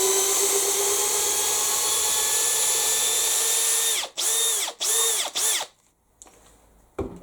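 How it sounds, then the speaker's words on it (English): An electric drill on its plain drill setting whines loudly and steadily as it drives a big screw, then stutters through three short bursts of the trigger before falling quiet, with one last brief start at the end. "this drill's going to want to go like that as soon as I pull the trigger"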